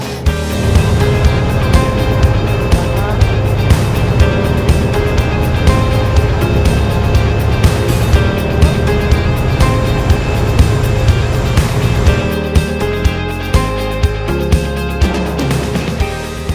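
A loud, steady boat engine drone rumbles continuously with rhythmic thumping as a glass-bottomed tour boat cruises toward Flowerpot Island, Tobermory, fairly close and unbroken.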